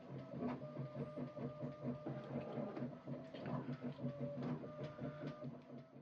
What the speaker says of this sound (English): Okay, printer has stopped, so that's good.